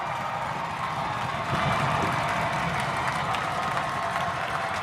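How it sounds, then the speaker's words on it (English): A big Vero Beach crowd roars at a high school football state title game against Lake Mary, a continuous distant wash of cheering and clapping that swells slightly partway through. "listen to that Vero Beach crowd"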